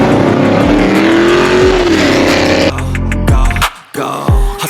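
A 2006 Dodge Charger with a 5.7 Hemi V8 revs loudly and close up, its pitch climbing and easing back in several pulls, ending in sharp blips with brief gaps between them.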